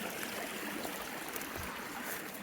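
A small creek tributary narrow enough to step across flows in a steady, continuous rush and babble of water, close by and even in level, with no voices.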